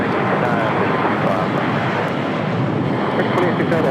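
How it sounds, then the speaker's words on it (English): A United Airlines Boeing 737-800 takes off at LAX, a broad steady jet roar heard from a distance with wind noise. Faint talk sits beneath it. "Next takeoff, United Airlines flight 2112 heading to Tampa, Florida on a"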